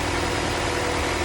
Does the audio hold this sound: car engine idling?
yes